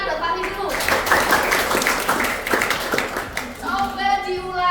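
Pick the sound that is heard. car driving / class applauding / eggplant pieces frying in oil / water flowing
class applauding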